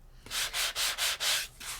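Rhythmic back-and-forth sanding strokes of a block on paper, six or so raspy rubs in a steady rhythm, close and fairly loud with no talking.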